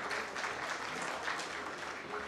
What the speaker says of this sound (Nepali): सबैले ताली दिनुहोस् उहाँहरूलाई